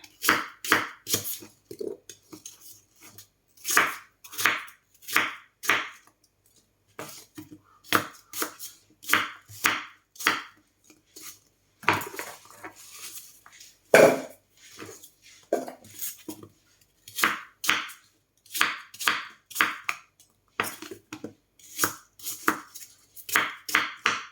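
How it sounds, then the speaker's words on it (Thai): Repeated knife chops through apples on a cutting board, sharp rhythmic bursts in clusters with short pauses, fairly close and clear. "จะหั่นเป็นชิ้นอย่างนี้นะคะ"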